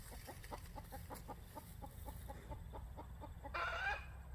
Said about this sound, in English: I want to know where that chicken's come from and where it's going and where it's laying eggs.